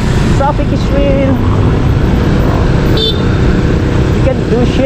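Dense road traffic roars continuously beside a city sidewalk and bike lane, with cars, motorcycles and buses blending into one loud, close, unbroken wash, and a voice faintly under it.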